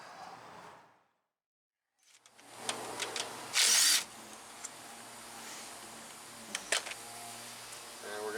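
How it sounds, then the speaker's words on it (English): A power tool or impact driver backs out the top brake caliper bolt on a salt-belt-corroded 2014 Ford F-150, heard as a short, loud mechanical burst amid workshop clatter, followed by scattered metallic clicks and taps. "So we're going to take this top bolt back out now."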